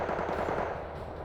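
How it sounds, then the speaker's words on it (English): An SPG-9D launches HEAT rockets at long range in Wargame Red Dragon, heard as a steady rattling burst of gunfire at moderate volume that holds without pause. "SPG-9D using the heat rockets to fire off at longer range."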